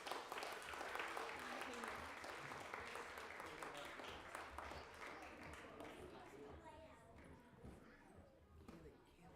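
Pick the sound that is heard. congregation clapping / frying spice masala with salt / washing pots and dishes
congregation clapping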